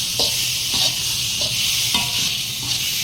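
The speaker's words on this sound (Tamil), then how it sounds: "அது வரைக்கும் கிண்டிகிட்டே இருக்கணும்" A thick karunai kizhangu (yam) mash is stirred steadily in a pan, with a constant bright sizzle under repeated scraping strokes about every half second. The sound is close and fairly loud, and no one speaks.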